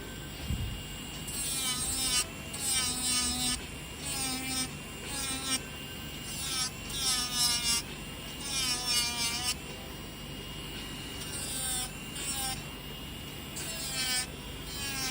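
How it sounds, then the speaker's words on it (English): A high-pitched electric nail drill with an extra coarse sanding band on a mandrel bit whines in repeated bursts, its pitch rising and falling as the band grinds on and off acrylic nails, close and steady. "we're gonna go in with the extra coarse sanding band, and this is on the mandrel bit"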